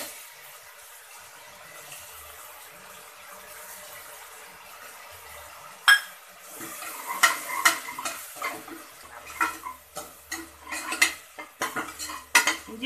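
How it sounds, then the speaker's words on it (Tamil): Ginger garlic paste fries in a pan for a Kerala-style mutton kulambu, a low sizzle that gives way to repeated clinking scrapes of a spoon stirring against the metal pan. "இஞ்சி பூண்டு பேஸ்ட் போட்டு நல்லா கிளறி விடுங்க."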